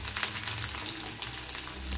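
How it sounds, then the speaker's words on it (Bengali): Finely chopped garlic, about ten cloves, frying in a pan with a steady, soft sizzle and crackle that carries on evenly and fairly quietly throughout, with no voices. "এবার আমি এখানে রসুন কুচি আর 10 কোয়া রসুন কুচি কুচিয়ে রেখেছিলাম দিয়ে দিলাম। এটাকে ভালো করে ভেজে নেব।"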